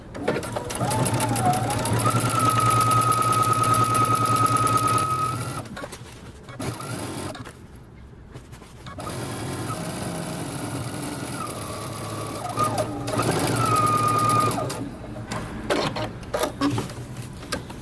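A sewing machine stitches a jeans inseam at a 5/8 inch seam allowance, running almost continuously in a close, steady whir, easing off briefly in the middle before picking up again.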